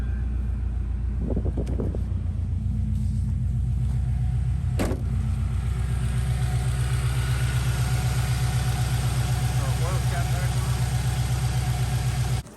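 A car engine treated with Motor Medic motor flush idles steadily for several seconds, a constant low hum with a few faint clicks and a brief sharp knock, then cuts off at the end.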